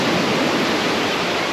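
Strong sea waves at the beach in Kaş, a loud, steady roar of surf filling the whole moment.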